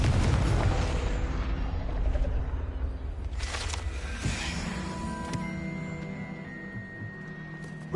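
A Confringo blasting spell goes off in Hogwarts Legacy with a heavy rumbling blast that decays over several seconds into crackling debris. Magical chimes and tones rise afterward.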